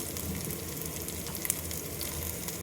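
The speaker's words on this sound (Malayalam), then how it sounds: "കടുക് പൊട്ടണം" Mustard seeds and dried red chillies spluttering and popping in hot oil for a South Indian enjam puli curry, a steady dense crackling sizzle close by, with one sharper pop, and no voices.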